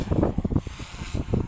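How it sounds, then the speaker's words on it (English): Strong wind gusts outdoors at a small RC helicopter flying session, buffeting the microphone with loud low rumbling bursts that rise and fall in uneven pulses throughout. "it is very windy now"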